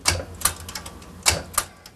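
Keys striking on a typewriter: a few sharp, crisp clacks in an uneven rhythm, close and clear, with quiet gaps between strikes.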